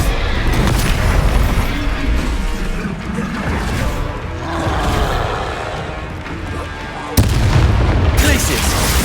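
Repeated Confringo blasting-spell explosions in the Hogwarts Legacy video game, booming crashes and pops hitting over and over in a loud, chaotic fight, with a fresh heavy burst near the end.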